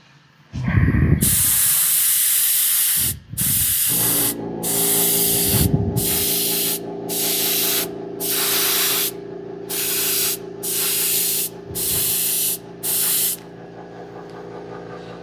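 Another coat of paint goes on in a series of close, loud hissing spray bursts, roughly ten in a row with brief gaps between them.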